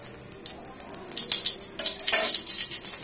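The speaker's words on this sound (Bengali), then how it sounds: "দিয়ে আমি সবজিগুলোকে ফ্রাই করব" Vegetables frying in a spoonful of ghee in a kadai on the stove, with soft steady sizzling and intermittent scraping, stirring clinks against the pan.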